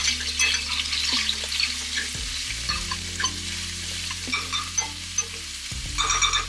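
Vegetable oil spattering and sizzling hard in a frying pan, a loud continuous crackle with sharp pops throughout, steady hum of the stove underneath, no talking.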